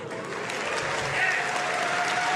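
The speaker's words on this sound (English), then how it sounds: "A smattering of applause for the Normans" Light applause from a small crowd at a Civilization VII developer livestream at PAX West, steady clapping throughout with no pauses.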